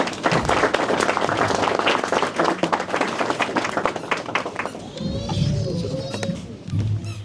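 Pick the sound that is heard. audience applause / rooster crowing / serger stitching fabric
audience applause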